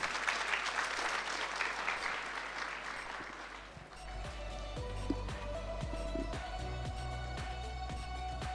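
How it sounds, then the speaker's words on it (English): Applause from an audience at a national ICT summit, steady for several seconds, then thinning into scattered claps over a low hum from the hall. "Can we please give them a round of applause?"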